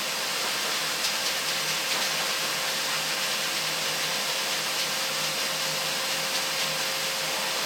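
A shop vac blowing air out through its filter to clear it, a loud, steady broadband rush of air with a faint constant whine, running unbroken throughout.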